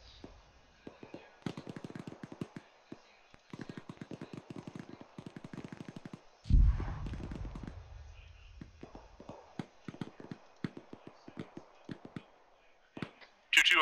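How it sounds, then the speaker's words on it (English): Rapid bursts of grenade machine gun fire in a military video game, repeated volleys of sharp popping shots with a heavier blast in the middle, under intermittent radio talk. "can you just saturate it with GMG fire?"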